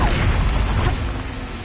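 Incendio fire spell cast in the video game Hogwarts Legacy, a loud whooshing burst of flame with a low rumbling boom that decays over under two seconds.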